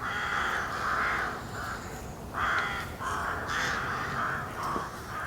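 A crow caws repeatedly in harsh, evenly spaced calls, fairly close, with a short pause midway before the cawing resumes.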